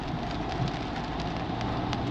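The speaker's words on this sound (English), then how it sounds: "Still raining." Steady rain falling at a caravan park, a dense, even wash of noise that holds at a constant level throughout with no voices.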